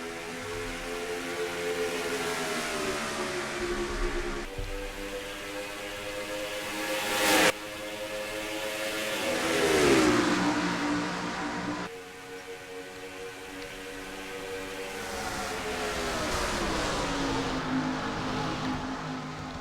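Simulated NASCAR race cars lapping Darlington in the NASCAR Racing 2003 game, a loud continuous engine drone with pitch rising and falling as the cars rev and shift, no talk.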